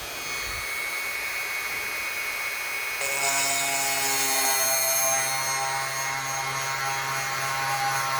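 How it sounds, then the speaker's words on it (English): Thirty-year-old Dremel rotary tool at its lowest speed drilling a labradorite cabochon, a steady high-pitched whine that steps up in pitch and intensity partway through, heard close and alone. "I've had this dremel for 30 years. It works. I have it set on the lowest speed."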